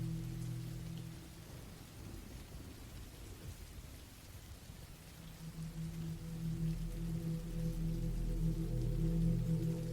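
Steady rain falls in a thunderstorm, a dense even hiss with a low rumbling swell of thunder building toward the end, no voices.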